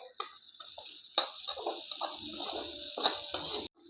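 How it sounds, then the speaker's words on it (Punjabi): Chopped onions frying in a pan for a broccoli curry, a steady hiss with occasional stirring scrapes and clatters. Moderately close, continuous, with no talk. "ਪਿਆਜ਼ ਨੂੰ ਵੀ ਆਪਾਂ ਹੁਣ ਹਲਕਾ ਜਿਹਾ ਭੁੰਨ ਲਾਂਗੇ"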